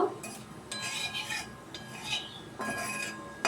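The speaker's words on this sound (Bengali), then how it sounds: "কালো জিরে দিয়েছি তেলের মধ্যে, এটা একটু নেড়ে নেব।" Nigella seeds stirred in hot oil in a wok, giving quick scraping and light clinking strokes of a spoon against the pan in short bursts, close and fairly quiet.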